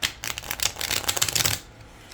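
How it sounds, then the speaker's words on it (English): A small mini tarot deck is riffled and shuffled by hand, a close, crisp flurry of card flutters lasting a couple of seconds. "They might be small, but I can still shuffle them."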